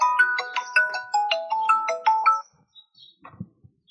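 A mobile phone rings from an unknown number, a bright repeating melodic tone in quick phrases for a couple of seconds before cutting off, followed by faint shuffling.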